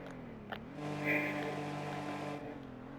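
A car engine in the Roblox game Test Drive revs up and holds a steady, droning tone for a couple of seconds before dropping back, loud and alone with no talk.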